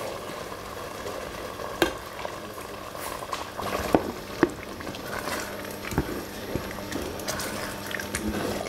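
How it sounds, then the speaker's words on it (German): A dark beer sauce with roast stock simmers in a pot, a soft continuous bubbling broken by occasional small pops and clinks, close and fairly quiet with no voices. "Das lassen wir jetzt ein bisschen einköcheln."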